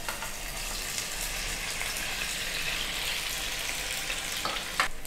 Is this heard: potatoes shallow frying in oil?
yes